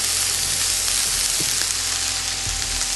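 Cubes of ostrich meat sizzle and fry steadily in a hot pan, a loud continuous hiss with a few faint stirring knocks, no voices.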